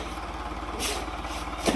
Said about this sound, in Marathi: आधी ट्रॅक्टर आलाय